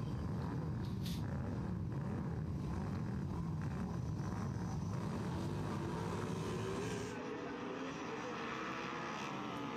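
Super Twins racing motorcycles ride out for a qualifying session at the Daytona short track, their engines a steady, broad roar that fades somewhat toward the end, with no voices heard.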